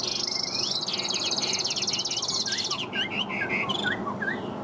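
A yellow-legged, yellow-billed hwamei songbird sings continuously in close, loud, varied phrases of whistles and rapid trills, with other birdsong and a steady background hiss.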